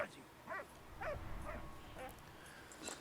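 A dog in the World War I video game Valiant Hearts: The Great War gives a string of short yips and whimpering barks, about six spaced bursts, fairly faint against quiet game ambience.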